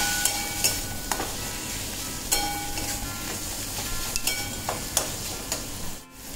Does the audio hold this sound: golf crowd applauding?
no